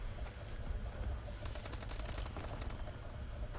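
Gunfire in the video game Call of Duty: Advanced Warfare, rapid bursts of shots crackling over a steady background rumble, moderately loud throughout.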